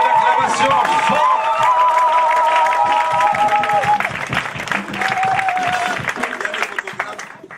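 A congregation celebrating a pastor's 30th wedding anniversary breaks into loud applause and cheering. Whoops and a sung or shouted tone rise over dense clapping, and the crowd fades toward the end.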